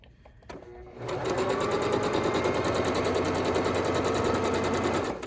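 A Pfaff sewing machine runs steadily for about four seconds after a soft start, its needle clattering in a fast, even rhythm close to the listener.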